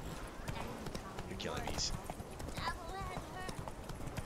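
Horse hooves clip-clop steadily as a mount is ridden in the video game Witcher 3, with a voice talking over the moderate, even rhythm.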